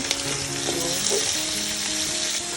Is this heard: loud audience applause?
no